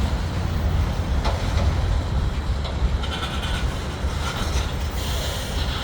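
CN mixed freight train cars roll steadily past at close range, a continuous heavy rumble with faint squeals and clanks, no talk.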